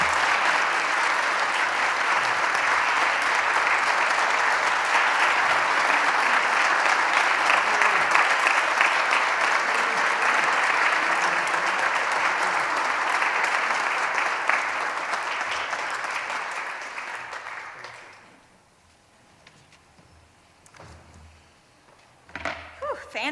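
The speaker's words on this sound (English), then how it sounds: "Please join me in a big round of applause as we welcome Trina up to the stage" Sustained audience applause at a Wisconsin awards ceremony, a loud, dense wash of clapping lasting about eighteen seconds before fading out, followed by a quieter pause with a few faint knocks and sounds.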